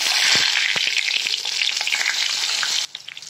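Stuffed brinjals dropped into hot oil with a cumin and mustard-seed tempering, frying with a loud, steady, close sizzle that drops abruptly near the end to softer crackles and pops.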